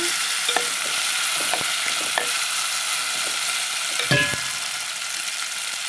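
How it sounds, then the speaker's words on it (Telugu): Masala frying in a pan, a steady bright sizzle with scattered soft scraping clicks of stirring and a louder clank near the end, close and continuous with no talking. "పచ్చి వాసన పోయిన దాకా వేపాలండి మసాలా దాంట్లోనే"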